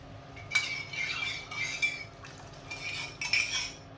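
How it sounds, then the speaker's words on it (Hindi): Spoon stirring chicken stock into shepherd's pie filling in a pan, quiet and intermittent: a few scattered metallic clinks and soft scrapes against the pan over about four seconds, with no voices. "अब हम इसे अच्छे से मिक्स कर लेंगे"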